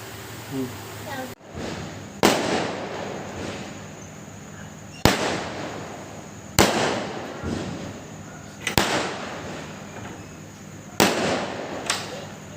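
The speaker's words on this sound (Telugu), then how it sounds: "ఎవరు ఇలాగా క్రాకర్స్ కాల్చున్నారు బయట" Firecrackers set off outside at a midnight birthday celebration in Bhimavaram, with about half a dozen sharp, loud bangs at irregular intervals, each fading into a short rumble, while people talk in between.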